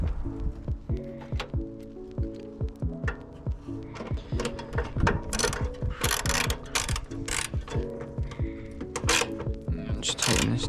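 Close ratcheting clicks and metallic tightening sounds as a Jeep battery cable connection is cinched down, in quick repeated bursts with brief pauses, fairly quiet and without talk.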